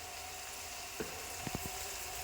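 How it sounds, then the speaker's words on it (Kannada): Leftover roti mixed with cumin and ajwain fries in a pan with a faint, steady sizzle, broken by a few soft stirring knocks. "ಈಗ ಹುರಿಬೇಕ್ರಿ ಇದನ್ನ."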